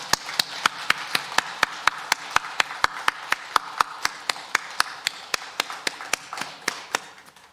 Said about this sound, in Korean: 우리도 힘찬 박수로 영광 돌립니다